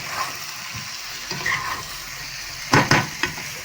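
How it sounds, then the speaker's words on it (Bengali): Eggs sautéing in a pan for a Bengali egg curry, a soft steady sizzle with a few sharp stirring scrapes near the end, close by and without talk. "এবার আমি ডিমগুলোকে কষিয়ে নেব"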